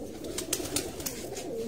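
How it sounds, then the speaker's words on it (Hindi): Pigeons coo softly in a loft, with several short, faint coos spaced irregularly over a quiet background. "सर्दियों के लिए कबूतर तैयार किए हैं"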